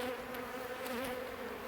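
Honeybees from an open, crowded hive being split on a warm day, a steady dense hum of many wings surrounding the listener at close range and without a break.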